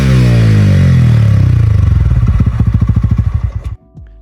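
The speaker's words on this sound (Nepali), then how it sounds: "अब हामी यो बाइकको एक्जस्ट नोट सुन्न लगाइराखेका" A TVS Ronin motorcycle's exhaust rumbles loudly up close, first a deep steady drone, then rhythmic throbbing pulses that slow as the engine winds down and cuts off abruptly, followed by a brief clatter.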